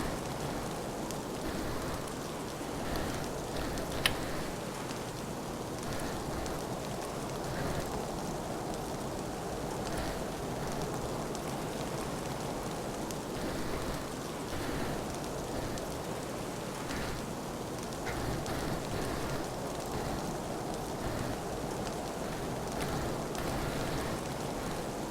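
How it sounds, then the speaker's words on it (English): Rain pours down in the Stormworks game world, a steady, unbroken hiss of falling water over a low background rumble, with no voices. "Can't believe it's raining again."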